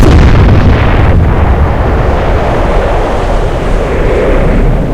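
A naval gun salvo in the warship game Atlantic Fleet booms out in a heavy, sustained roar of artillery fire that rumbles and slowly fades, loud and dense throughout.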